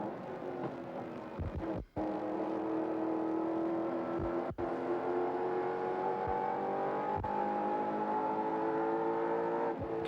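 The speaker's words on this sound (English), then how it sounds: "So it'll be Alan Grice in the number 16 car, clear of the number 18 car" Touring race cars at the 1990 Tooheys 1000 drone past with a steady, loud engine roar and rising whine, sustained throughout, broken by a few brief gear-change dips.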